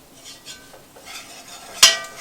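Flour stirred into melted butter in a pot to make a roux, soft scraping stirs with faint sizzling, capped by one sharp utensil clink against the pan.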